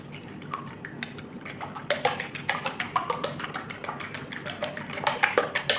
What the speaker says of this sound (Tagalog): I-mix natin dito sa itlog